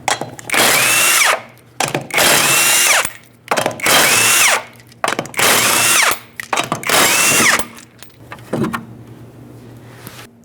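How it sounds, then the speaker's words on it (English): A power tool with a 19mm socket spins off the lug nuts on the rear wheel of a 2006-2011 Honda Civic, giving five loud whirring bursts of about a second each, separated by short pauses, followed by a faint clatter. "Use a 19mm socket to remove all 5 lug nuts and then remove the wheel."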